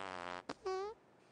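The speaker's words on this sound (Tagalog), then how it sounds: "sino yung utot?" A fart in a dubbed comedy scene: a brief rough blast after a sharp pop, then a drawn-out tonal squeak falling in pitch, fairly loud against quiet room tone, with no talk over it.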